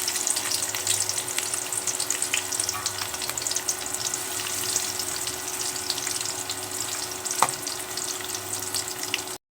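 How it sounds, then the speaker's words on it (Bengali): Onions tossed into hot oil sizzle and crackle steadily, a loud, dense frying hiss with occasional pops and stirring sounds, close up and with no voices. "তেল গরম হয়েছে, পেঁয়াজ দিয়ে দিলাম।"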